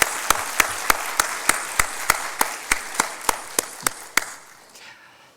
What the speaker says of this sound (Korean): 이 시간 우리 지금도 영혼을 위해서 기도하고 수고하는 우리 교사님들 위해서 힘차게 우리 축하하고 격려하는 박수 하겠습니다.